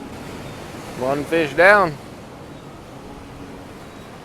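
Ocean surf washes steadily along a Hawaiian shoreline as a low continuous broadband rush with some wind, while someone speaks briefly over it.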